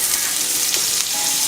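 Butter sizzling in a hot pan with carne asada, a loud, steady, close frying hiss with faint crackles and a light stir partway through, no talking.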